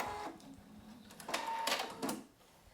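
A sewing machine runs a short holding stitch on a quilted travel bag, quiet and close, with a couple of brief mechanical whirring bursts and clicks between pauses.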